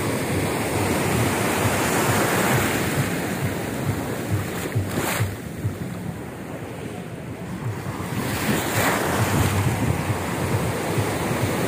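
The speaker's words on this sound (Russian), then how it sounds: "Просто покажу океан." Ocean waves breaking on a clean sandy hotel beach, a steady loud roar of surf with rising and falling wash and wind buffeting the microphone, no talk.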